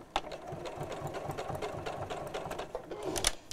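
A sewing machine stitches a fabric bag with a round bamboo handle, a close, rapid mechanical chatter in short even pulses that runs throughout with a few brief pauses.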